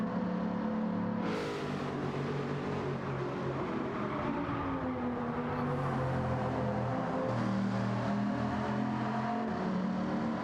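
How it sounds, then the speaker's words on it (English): Bugatti-engined race car running on a track in an endurance race, a steady, fairly subdued engine drone with gentle pitch shifts through gear changes, continuous and without talk. "It's not a very noisy engine, the Bugatti engine,"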